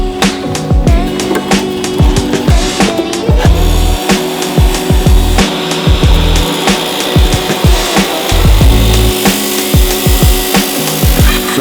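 Power saw cutting through a Land Rover chassis frame, a loud, continuous grinding buzz with a steady hum underneath and repeated rasping strokes, close and sustained for the whole stretch.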